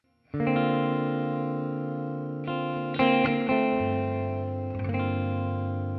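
Electric guitar, a Les Paul, played through the Rain preset on a Mooer Prime P2 multi-effects pedal: loud strummed chords ringing with shimmering, modulated sustain, several new strums over about six seconds, clean and close with no talk.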